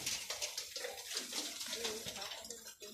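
Floodwater current streams steadily into the rooms of a village house, a continuous close rushing and splashing wash, with people talking faintly underneath.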